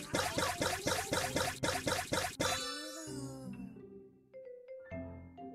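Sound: bottle being shaken to mix milk, from a video game

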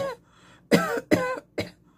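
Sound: cough

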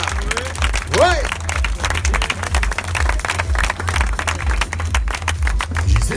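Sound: crowd applauding at trail race start

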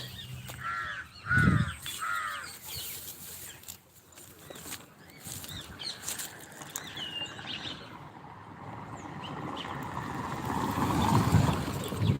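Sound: birds calling in the morning

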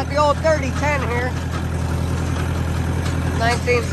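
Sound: old 1963 3010 tractor engine idling

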